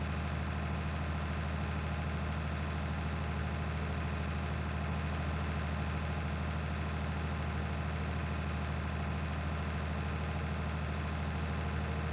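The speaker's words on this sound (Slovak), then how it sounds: "Ako prvý traktor tento Fendt je celkom dobrý ako na začiatok." A Fendt tractor engine idles steadily in Farming Simulator 19, a constant low droning rumble with a faint mechanical hum, unchanging and moderately quiet throughout with no talk.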